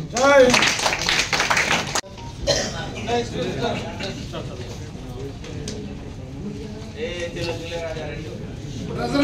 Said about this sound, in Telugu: ఇప్పుడు కొట్టండి చప్పట్లు అందరూ.